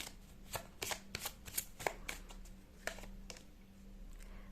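Tarot cards being shuffled by hand, a quick run of crisp papery riffles and flicks, close and fairly quiet, with no one speaking.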